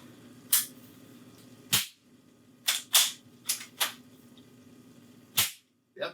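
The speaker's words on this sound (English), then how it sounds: "We just shot 2 shots off to prove it" Two sharp CO2 shots from a Beeman QB78E air rifle crack out close and loud, joined by several further quick reports with short pauses between them over a low steady hum.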